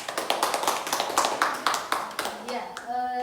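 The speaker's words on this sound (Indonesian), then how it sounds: "Kita beri aplaus dulu untuk kelompok 2." A group of people gives applause for a presenting group in a classroom or training session, a short burst of steady clapping that fades out near the end.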